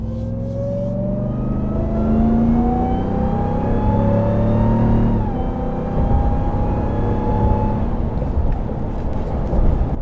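A RAM TRX pickup fitted with an AFE Super Stock intake revs under throttle, its engine note climbing steadily in pitch, easing briefly, then rising again, loud and close with no talk.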